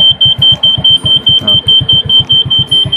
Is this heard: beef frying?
no